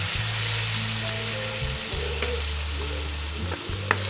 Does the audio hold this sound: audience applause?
no